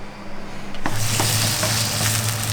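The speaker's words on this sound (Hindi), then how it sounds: "और अब हम इसमें ये डालेंगे चिकन" About 250 grams of chicken pieces dropped into a small amount of hot oil, bursting into a loud, steady close-up sizzle that continues without a break.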